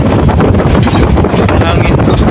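Cold mountain wind buffeting a microphone near a virgin forest, a loud, constant rumbling roar filling the short stretch without a break.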